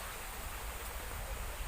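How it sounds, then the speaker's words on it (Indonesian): Water flows steadily beneath a bridge at a historic Japanese samurai family site, a soft continuous rushing wash with no other sounds breaking through. "Di sini ada air mengalir."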